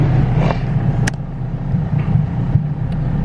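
Turbocharged Honda GSR-powered EF sedan idling on a dyno, with a steady low engine rumble nearby and a few faint clicks over the constant hum.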